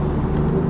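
Alfa Romeo Giulia Quadrifoglio with aftermarket downpipes gives a loud, steady exhaust drone during a downshift, with a brief crackle near the end of the short burst and no talking.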